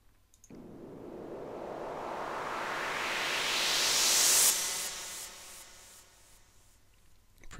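Synthesized tone in Caustic with a rising sweep filter that climbs steadily to a bright peak, then cuts off into trailing delay repeats and reverb tail, alone with no talking.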